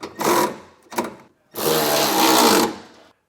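A power tool whirs in short bursts and then one longer sustained run, close and loud, while tightening air spring mounting hardware for Air Lift LoadLifter 7500 XL helper springs on a 2022 Ford pickup.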